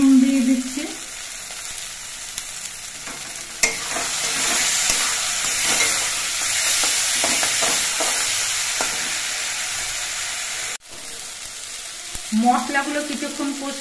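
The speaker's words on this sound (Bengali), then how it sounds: "এবার নেড়ে চেড়ে মশলাটা কষিয়ে নিতে হবে" Spices being stirred and fried in a pan with a little water for Bengali masoor dal tarka, a loud continuous sizzle and hiss with scraping stir strokes, briefly cut near the end, a voice at the start and close.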